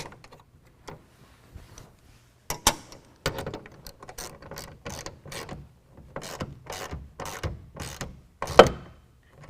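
A ratchet wrench tightens a bolt on a TonnoSport tonneau cover rail of a 2017 Nissan Titan, giving a close series of sharp clicks in uneven bursts, faint at first then steady and louder.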